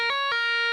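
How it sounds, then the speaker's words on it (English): Guitar phrase from a solo, a slight bend on the second string followed by a pull-off, played on a toned electric guitar: three short plucked attacks with a held note between, solo and close. "what I've got here is a slight bend on 9 of the 2nd string"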